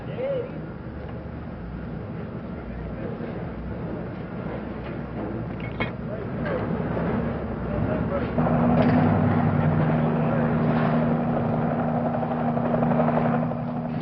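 A Navy helicopter carrying a 3,500-pound slung load during a nighttime replenishment at sea gives a loud, continuous rotor drone that swells slightly midway, with a narrator speaking over it.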